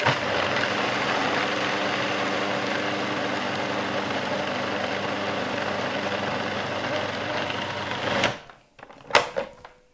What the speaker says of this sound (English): I want to pulsate it. This is quite a powerful mixer.